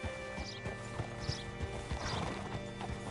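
A horse's hooves clip-clop steadily in Red Dead Redemption 2, with creaking tack and a whinny mixed in, close and fairly loud over a low background hum.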